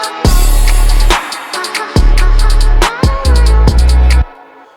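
A saturated bass sample booms in loud sustained notes, with short breaks between them and sharp transient hits on top, full and gritty in the low end.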